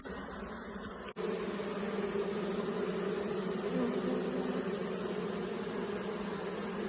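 A dense, steady insect drone of many honeybees humming together at a hive, close and continuous, after a brief cut near the start.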